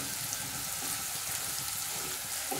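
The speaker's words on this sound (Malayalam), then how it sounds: "ഇനി ഉള്ളി നന്നായിട്ടൊന്ന് മൂത്ത് വരട്ടെ കേട്ടാ." Onions frying in oil in a pan for carrot thoran give off a steady, dense sizzle that stays even and close throughout, with no voices.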